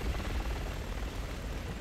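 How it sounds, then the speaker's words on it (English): A helicopter in Resident Evil 6 thrums with a dense, steady low rotor rumble, loud and close and unbroken, with no speech over it. "The chopper's pulling back."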